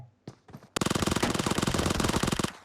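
An Uzi in PUBG Mobile fires a loud, rapid continuous burst of about two seconds, each shot closely spaced in a harsh rattling stream, preceded by a couple of short clicks and handling sounds.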